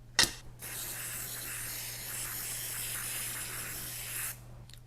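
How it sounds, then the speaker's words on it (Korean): A fabric water-repellent coating sprayed from a trigger bottle onto car glass: one sharp squirt, then a steady close hiss of mist lasting about four seconds before it stops. "그 뿌리는 김에 유리에도 한번 뿌려 볼게요."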